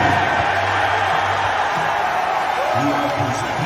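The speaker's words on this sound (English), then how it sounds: "here is the crowd greeting Donde Plowman at the Tennessee basketball game tonight" Crowd noise from the stands at a Tennessee basketball game, greeting Donde Plowman. Steady roar and cheering throughout, with a voice talking over it.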